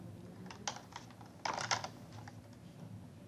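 Fingers typing on a computer keyboard, quiet close clicks in short irregular bursts with a busier flurry near the middle.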